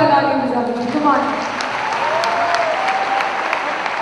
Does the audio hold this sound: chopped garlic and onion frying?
no